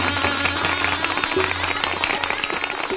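Wedding guests clapping at a welcome for a groom's party in a colony, steady mixed applause with crowd noise and a low hum underneath, fairly loud and continuous.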